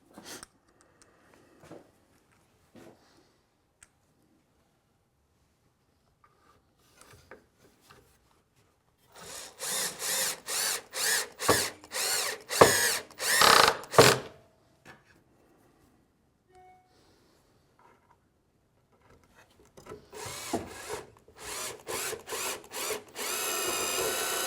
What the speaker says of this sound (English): And then we'll just run in the screws.